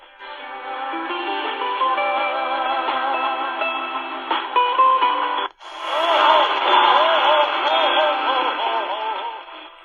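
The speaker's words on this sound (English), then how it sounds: "we got more music on 1380, which is WBEL, South Beloit" Music plays from AM station 1380 WBEL in South Beloit, Illinois, on a C.Crane Skywave 2 radio. The sound is thin and band-limited, with a voice in the broadcast and a brief dropout halfway through.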